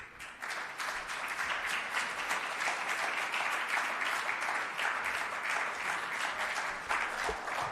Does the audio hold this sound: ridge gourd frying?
no